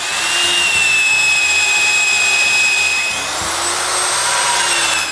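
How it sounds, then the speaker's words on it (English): A big electric drill bores steadily into wooden posts and beams of a new shop's exterior frame, a loud continuous motor whine with a brief dip in pitch midway, close and without talk. "I drill the posts and beams with the big electric drill."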